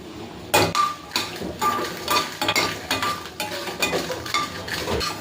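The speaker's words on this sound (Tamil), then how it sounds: "ஃபஸ்ட்டு மிளகா வறுத்துக்கலாம்." Repeated scraping and clinking of a utensil against a hot metal pan as red chilies dry-roast, irregular stirring strokes with a faint crackle underneath.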